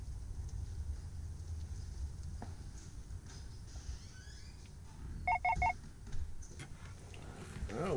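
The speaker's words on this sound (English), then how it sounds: "Oh, we get to hear my phone going off" A mobile phone goes off indoors during a real estate repair walkthrough: a brief cluster of three quick electronic tones over low background hum, with a few faint clicks around it.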